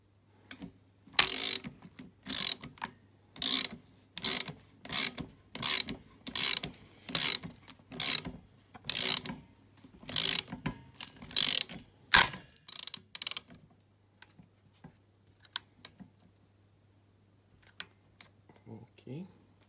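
A nut on an Aprilia SR injection scooter is tightened with a ratchet in a run of sharp, regular clicking bursts, close and loud, that slow and stop, followed by quiet handling over a low hum.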